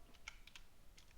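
Keys on a computer keyboard are typed during a Python pandas coding session, a few quick, quiet, close clicks spaced irregularly over a low background hush.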